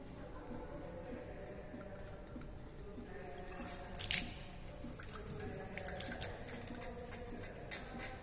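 Water flowing and trickling out of a tube end during a Poiseuille viscosity experiment, a faint steady splashing with light drips, close by.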